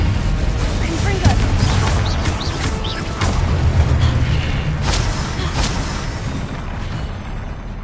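Spell blasts from Confringo, the explosive fire spell in Hogwarts Legacy, crack out in a dense game battle, with repeated booms and crashes layered over rumbling effects and voice calls.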